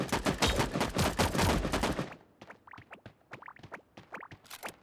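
Gunfire in the video game Sausage Man: a dense, loud burst of rapid automatic shots for about two seconds, then scattered quieter single and double shots farther off.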